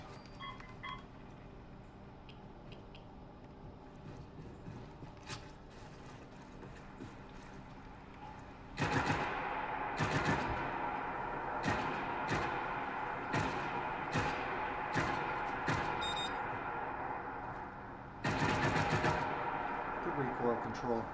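Several bursts of weapon fire in Fallout 4 punch out as loud, sharp shots, some in rapid runs, over steady game ambience and a quieter first stretch, with someone talking in between.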